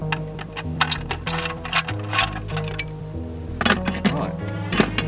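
A ratchet working loose a T40 Torx fastener on a first-generation Audi TT during an AC repair. Close, rapid bursts of clicking pawl teeth come with occasional metallic clinks, and a voice is faintly present underneath.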